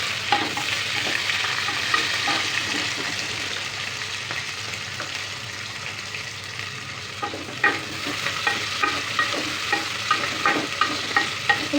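Chopped onions and curry leaves sizzle loudly in hot oil, a dense crackling fry close by, with stirring scrapes growing more frequent toward the end and no voices.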